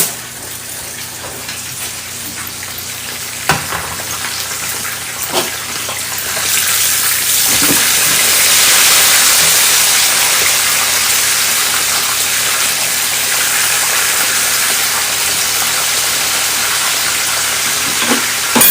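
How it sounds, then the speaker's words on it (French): Fish frying in hot oil for Senegalese yassa poisson, a continuous loud sizzle that swells midway and holds steady, with a few sharp clicks and pops near the start. "le premier côté du poisson est bien doré comme j'aime bien, il est bien frit"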